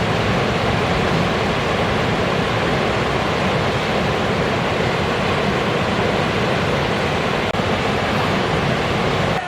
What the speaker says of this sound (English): only the sound of flowing water and distant wails remained